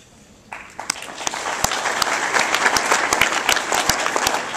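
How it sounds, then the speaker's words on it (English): Applause at a county State of the County address breaks out suddenly after a quiet moment and builds into dense clapping, with a few sharp louder claps standing out near the front. "It's nice that the assessor gets applause"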